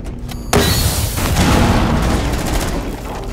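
Gunshot in Rainbow Six Siege on the Yacht map, a sudden loud crack with a booming tail that rolls on for several seconds amid dense, noisy game sound.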